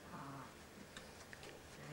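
A sheep bleats briefly at an educational farm, a faint wavering call amid low farmyard background noise, with no speech.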